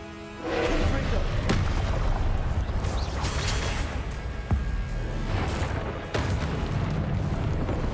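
Heavy blasts from the Confringo spell in Hogwarts Legacy roar and rumble continuously, with a sharp crack midway and another burst near the end, loud and close over a dense battle din.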